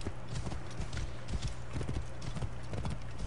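Horse hooves clip-clop in the video game Assassin's Creed Origins: a steady, fairly close trotting rhythm that runs throughout over a low game ambience, with no speech.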